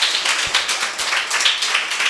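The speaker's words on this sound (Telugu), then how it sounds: "చప్పట్లు కొడతాం గట్టిగా" A congregation claps loudly together during a Sunday church worship service, making a brisk, steady run of sharp, close claps with no voices over them.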